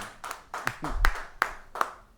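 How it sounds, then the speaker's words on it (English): A few people in an audience clap at a live broadcast, giving five sharp separate claps in a sparse, near rhythm with no talk over them. "Yeah, clap for her too"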